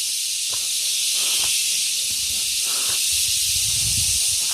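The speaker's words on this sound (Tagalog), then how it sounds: "Ang ingay ng kuliglig." Loud, continuous high-pitched insect chirring from crickets fills the air near an overgrown spot said to harbor snakes, a dense steady buzz with no pauses and faint low rustles beneath.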